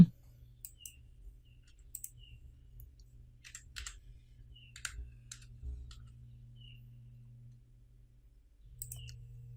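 Keys clicked on a computer keyboard while entering a value in SketchUp, a sparse scatter of light, close taps over a low electrical hum, with a brief run of quicker clicks.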